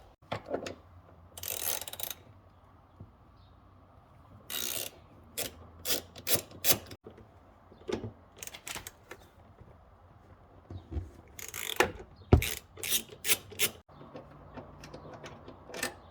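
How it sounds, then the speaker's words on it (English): Ratchet working on the front seat bolts inside a 2007 Audi B7 RS4, heard as bursts of quick rasping clicks separated by pauses, close and fairly loud, with no talk. "So if you take all 4 of those bolts out, the seat should be able to come out."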